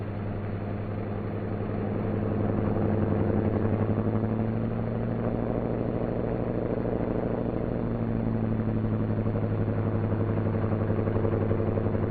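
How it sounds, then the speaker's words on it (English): A troop carrier airplane's engine drones and rises as it spools up, settling into a steady low hum with a strong pulsing tone. "we've got to start the other engine before we can taxi."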